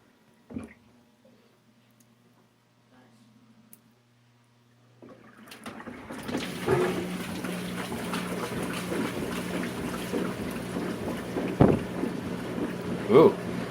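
Whirlpool Cabrio WTW7000 washing machine ramping into a spin cycle with an unbalanced load: quiet hums and a clunk, then a rising whooshing drum rush with occasional knocks.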